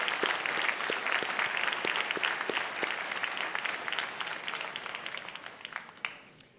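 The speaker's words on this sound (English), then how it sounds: "I think they deserve a round of applause." A convocation audience breaks into sustained applause, a dense, steady wash of many hands clapping close and loud, tapering slightly toward the end.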